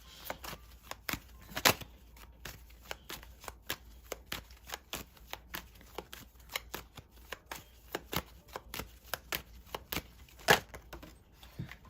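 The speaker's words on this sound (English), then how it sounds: "It's hard to shuffle when your finger's messed up." Tarot cards shuffled by hand, a steady run of crisp riffling snaps and taps close up, with one louder burst near the end, no talking.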